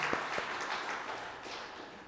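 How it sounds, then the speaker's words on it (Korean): A church congregation applauds to welcome a newly registered member during a Sunday worship service, a short burst of clapping in an indoor sanctuary with no talk over it. "잠시 자리에 일어나시면 박수로 환영하겠습니다."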